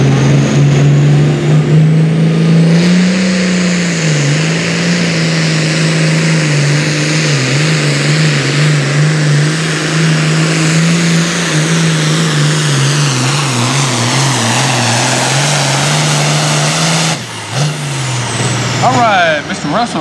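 A Super Farm class International tractor roars at full power during a nighttime pulling competition in Hopkinsville, Kentucky, its loud engine droning steadily for about seventeen seconds with pitch wavering under load before a sudden cut and brief rev at the end.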